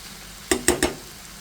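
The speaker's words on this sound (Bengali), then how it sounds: "এই পর্যায়ে আমি একটু নেড়ে ছেড়ে দিচ্ছি" A spoon stirring a taro and small fish curry in a pan gives three quick metallic scrapes in a row, close and crisp, with faint background hiss.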